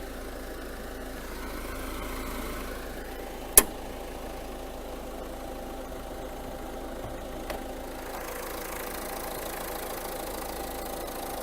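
A 2014 Ford Ecosport's 1.6 litre diesel engine idling with the bonnet open, a steady low even hum with a couple of sharp clicks partway through.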